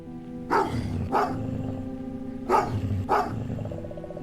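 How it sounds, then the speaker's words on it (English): A dog in a neighborhood gives four sharp barks in two pairs, close and fairly loud, over a steady low rumbling growl that runs beneath the whole stretch. "That dog attacked as soon as you entered your neighborhood."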